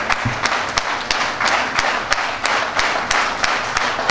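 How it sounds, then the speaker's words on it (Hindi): Applause from an audience at a company gathering, a steady wash of clapping with sharp claps popping out at a fairly regular rhythm, close and sustained. "तालियों से पता लगनी चाहिए"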